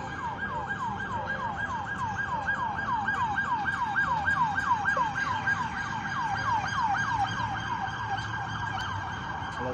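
An ambulance siren wails in a fast, steady yelp pattern at moderate distance, continuous throughout over low road traffic rumble.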